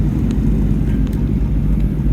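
Honda car engine rumbling steadily and loudly at a burnout competition, a dense low growl holding throughout with no gaps.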